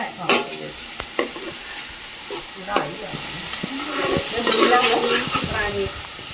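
Fish, a variety called rani, frying in a pan in a Kerala home kitchen, with steady sizzling hiss under scraping stir clatters and brief faint voices nearby.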